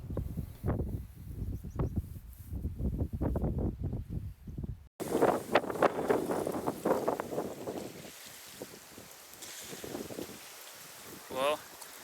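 An evening downslope wind rolls off the mountainside over a campsite onto the Columbia River, buffeting the microphone in gusty rumbling bursts that ease to a softer, steady rush.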